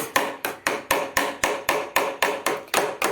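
A hammer strikes metal in a steady rhythm during car repair, about a dozen sharp, evenly spaced blows ringing close by with no talking.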